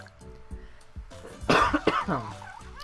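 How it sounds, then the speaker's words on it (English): A short run of harsh coughs, close and loud, following a few quieter low thumps. "Pardon my cough."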